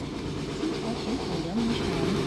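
A push-button speaker at the 228 Memorial Peace Park in Taipei plays a recorded old steam locomotive sound for a short, steady burst of hissing, rumbling train noise at moderate loudness, with no voices.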